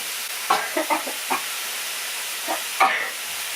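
Green onions fry in a pan for mapo tofu, with a soft continuous sizzle and a cluster of light scraping stirs, then two more later, all fairly close and with no voices.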